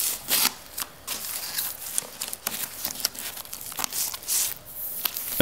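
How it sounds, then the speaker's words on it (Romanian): Protective film peeled slowly off adhesive sealing tape during laminate floor installation, close crackling and tearing rasps in irregular bursts, fairly quiet. "apoi trageți încet folia de pe banda adezivă"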